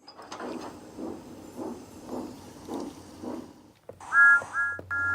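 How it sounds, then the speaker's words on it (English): Soft rhythmic chuffing puffs along, then a loud steam whistle sounds twice in close succession, bright and near. "Then he heard a whistle."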